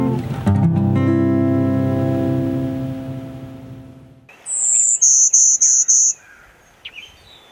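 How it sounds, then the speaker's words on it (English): Golden-winged Warbler song in northern Michigan habitat: a short series of five buzzy, high notes in quick succession, clear and fairly near, following a fading droning tone. "So the Golden Winged Warbler is a small little bird."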